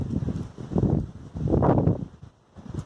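Gusty wind buffets the area in two strong surges, roaring and rustling close by, then briefly dropping away before picking up again.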